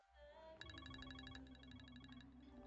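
A phone rings in a noisy setting with a repeating electronic ringtone of short, evenly spaced pulses. It is fairly faint and sits over a steady low hum and background noise.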